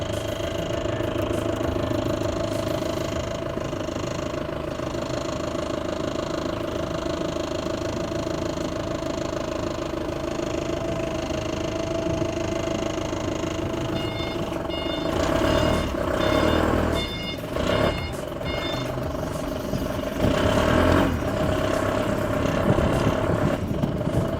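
Heli K2 Series 2.5-ton forklift (CPCD25-Q22K2) driving down a loading ramp: a steady engine hum throughout, with clanks and a beeping alarm joining in the second half.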